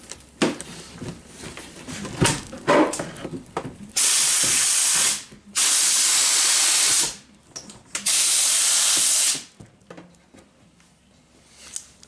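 Compressed air blasts hiss loudly against a clear cast quarter-scale '53 pickup truck body prototype, with three long sustained bursts after several shorter sputtering puffs, close and dominant with no talk.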